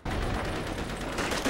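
Arisaka Type 99 bolt-action rifle fire in World at War, a dense, loud burst of gunfire and battle noise filling the whole short stretch with no pauses.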